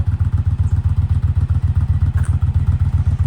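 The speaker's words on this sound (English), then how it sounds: "one of the most expensive and heaviest bikes are rolling out" A heavy, limited-edition Indian motorcycle rolls out at a classic car and bike breakfast, its big engine thumping in a steady, rapid, loud idle-like pulse close by.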